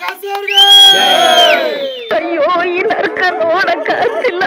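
A movie crowd cheers and whoops for the hero, opening with a loud sustained shout that gives way after about two seconds to a ragged jumble of excited voices.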